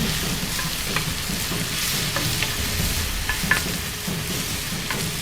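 Kimchi (fermented cabbage) sizzles and fries in a pan while being stirred, giving a continuous crackling hiss with occasional scraping clicks, close and steady.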